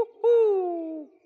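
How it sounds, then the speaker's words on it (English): A single cartoon owl hoot from an animated children's episode, one clear, smooth, slightly falling call lasting about a second, close and alone. "This girl owl sounds like she's getting closer."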